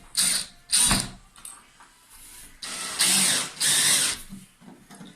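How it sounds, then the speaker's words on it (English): Self-tapping screws driven into hardwood while fixing a broken towel rail: a cordless driver whirs and ratchets in several bursts of a second or so each, close and fairly loud, with short pauses between. "we don't want to crack it when we're putting these self-tapping screws in. And we're just gonna drive them in now."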